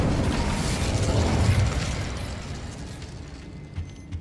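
A fire spell cast in the Hogwarts Legacy video game bursts out as a loud, rumbling whoosh of flame, sustained for about a second and a half before fading into a softer crackle, with a couple of small pops near the end.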